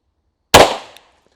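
A single gunshot fired at a paper target during a shooting drill, one loud close crack with a short decaying tail outdoors, otherwise quiet.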